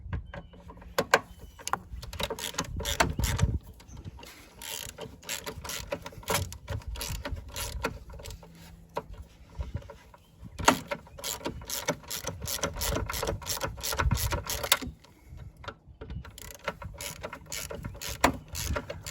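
A ratchet wrench loosens the long 10 mm battery hold-down bolt on a Chrysler Pacifica, giving steady runs of rapid clicking with short pauses, close and fairly loud throughout.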